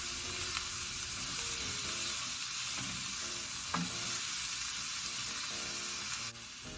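White onion, red and green peppers, parsley and cilantro frying in a pan for a Dominican meal, a constant close hiss with occasional soft stirring scrapes and taps.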